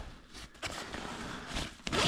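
Zipper on a pouch of a Vertx Gamut 18L sling bag being pulled open, a short tug followed by a longer steady rasp and a final louder pull, close up with no talking.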